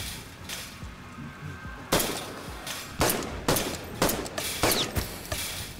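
Sports rifle gunfire in a video game: a few scattered shots, then a burst of loud, sharp cracks fired in quick succession, close and echoing.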